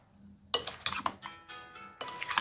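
Metal spoon scraping and clinking against a bowl as chicken is mixed with spices for KFC-style popcorn chicken, several sharp clinks in quick succession close by, with no talking.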